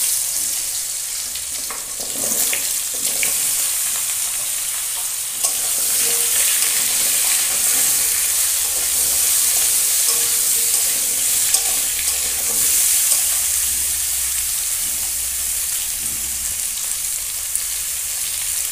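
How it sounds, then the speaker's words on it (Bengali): Pumpkin and potato fry in a spice tempering for a fish curry, a continuous bright sizzle held for many seconds with occasional soft stirring clinks, close by and without speech. "ফোড়নটাকে ভালো করে ভেজে নিয়ে এবার কুমড়োটা দিয়ে দেবো। আলু আর কুমড়োটা দিয়ে দেবো।"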